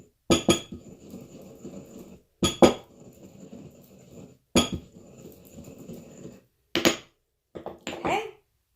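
Herbs and black pepper are ground for hot foot powder, a series of about five sharp, close knocks, each followed by a short scraping grind, separated by brief pauses with no talking.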